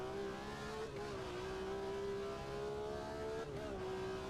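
A BMW M1 Procar race car in Automobilista 2 holds a loud, steady engine whine, with gear shifts briefly dipping the pitch near one second and again around three and a half seconds before it climbs back.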